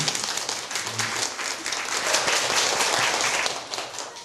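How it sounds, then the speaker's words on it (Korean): A lecture audience at a counseling psychology special lecture breaks into steady, moderately loud applause that holds evenly throughout, with no speech over it. "박수 한번."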